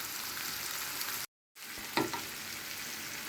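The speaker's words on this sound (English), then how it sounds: "So they're just sizzling away in the pan." Onions with a sprinkle of salt frying in a pan for a curry, giving a steady close sizzle with a brief silent gap and a couple of small stirring clatters, no talking.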